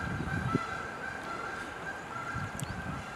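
A flock of geese passing overhead in the outdoors, their honks faint and distant over a constant wash of running stream water, with a couple of soft thumps nearby.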